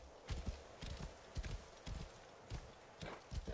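Horse hooves clip-clop at a steady walking rhythm in the Assassin's Creed Origins video game, close and fairly quiet, with no voices.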